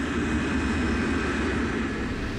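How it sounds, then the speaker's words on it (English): A KLM jumbo jet accelerates down the runway, its engines giving a steady, loud, broad roar that holds constant throughout, with no speech over it. "Captain Van Zanten accelerates the KLM jumbo down the runway."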